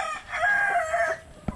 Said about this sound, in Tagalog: kulungan ng mga manok.